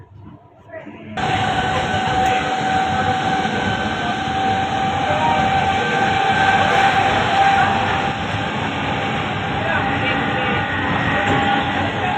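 A train rumbles continuously and loudly, with a steady high whine and rattling over a broad roar throughout.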